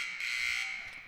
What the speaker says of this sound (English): The buzzer just inexplicably went off, and the clock was still moving